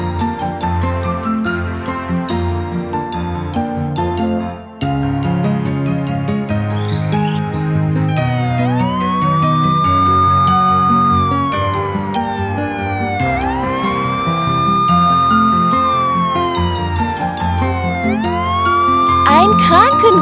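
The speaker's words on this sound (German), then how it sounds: "Ein Krankenwagen." An ambulance siren in a children's cartoon wails with rising and falling sweeps over bright background music and jingles.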